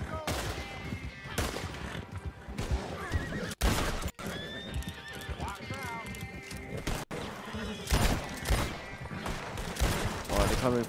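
Video game horse sounds: a whinnying horse and clip-clopping hooves in a foggy gameplay scene, mixed with bursts of gunfire and other game noise, with a player talking over it.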